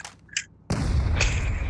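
A gunshot in PUBG Mobile lands as a sudden heavy boom that rolls on with a sustained rumbling tail, preceded by a couple of faint, brief high-pitched blips.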